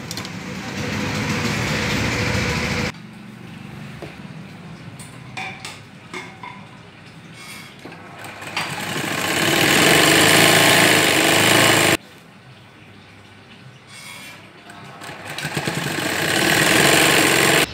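A sewing machine stitches a folded hem on a child's Afghani salwar, its motor whirring in loud bursts with quieter handling of fabric in the pauses between runs.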